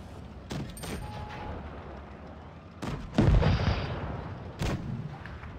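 Tank cannon fire in World of Tanks Blitz, on a Panther II: several booming shots spaced a second or two apart, the heaviest near the middle, over a low battlefield rumble at moderate distance.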